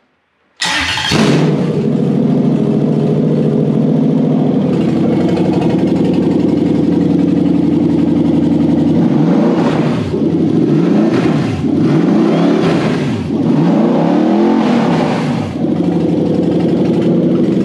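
A 1UZ-FE V8 swapped into a car cranks and fires up, settles into a steady idle, then is revved in several rising-and-falling bursts, loud and close with no talking.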